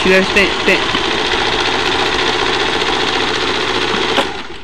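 A Janome sewing machine with a tension and stitching fault runs continuously nearby, a loud, steady buzzing whir that eases off just before the end.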